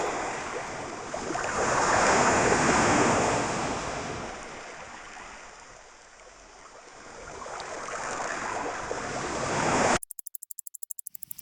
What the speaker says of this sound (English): I'll enter beach waves, then I click generate.